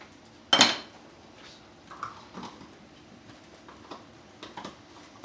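A spoon strikes a cooking pan with one sharp metallic clank, then lighter clinks and taps follow sparsely, close by with no talk.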